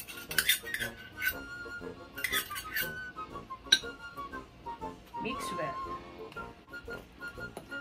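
A utensil clinks and scrapes against a bowl while ingredients, including butter, are mixed for cinnamon roll filling, giving irregular bright knocks and stirring, with voice sounds in the background.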